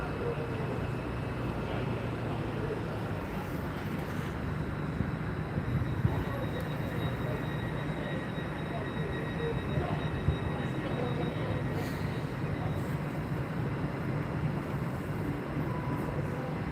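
Train pulling away from a station platform in Gloucester, a steady low rumble of wheels and engine sustained throughout at moderate, even loudness with faint background station noise.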